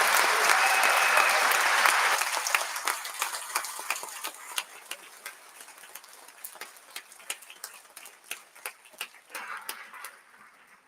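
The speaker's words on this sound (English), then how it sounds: "another round of applause for all these amazing speakers" An audience at an Ignite Annapolis 2025 event applauds the speakers, dense clapping at first that thins into scattered individual claps as it dies away.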